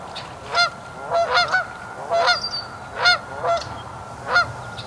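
Geese honking outdoors near a hatching area, a string of about eight nasal honks in a loose rhythm, moderately close over low background noise.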